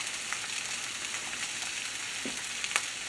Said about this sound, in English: Look at that, sizzling there.